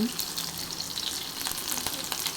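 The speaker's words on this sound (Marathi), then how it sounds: "आता मिरची टाकून घेते त्यामध्ये व्यवस्थित अशी थोडीशी लावसर करून घेणार थोडीशी भाजली" Green chilies fry with garlic in a pan, a soft, steady sizzle with light crackles throughout.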